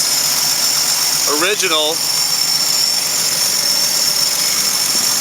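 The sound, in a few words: Willys truck Super Hurricane flathead six engine running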